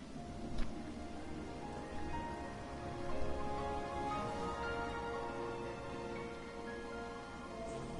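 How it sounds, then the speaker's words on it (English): Steady rain falling in the video game Final Fantasy 15, a dense continuous patter with a few heavier swells, heard alone without voices. "It's rainy."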